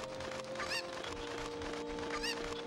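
Cucco chickens in Zelda: Ocarina of Time let out a few shrill, rising clucks and squawks, two distinct bursts standing out over steady background game music.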